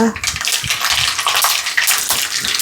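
Mustard seeds crackling and spattering in hot coconut oil in a home kitchen, a busy close hiss of sputters and pops with a few brief voice sounds in the background.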